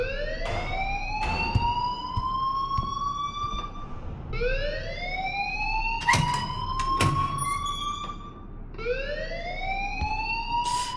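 A repeating electronic alarm in the video game Life Is Strange, rising in pitch over and over in long wailing sweeps about every three to four seconds, loud and steady, with sharp clanks and hits sounding over it.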